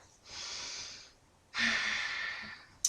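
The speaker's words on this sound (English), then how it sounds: "We take a deep breath." Two deep breaths taken during a calming tapping exercise, each a long, airy rush close to the mic: a softer inhale first, then a louder, fuller breath after a short pause, with no talk.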